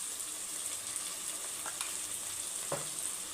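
Fish curry masala with Kashmiri chilli sautés in oil, a soft, steady frying hiss broken by a couple of brief spoon scrapes.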